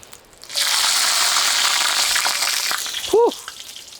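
Chips dropped into very hot oil in a home kitchen burst into a loud, steady sizzling hiss that holds for several seconds, with a brief clunk near the end.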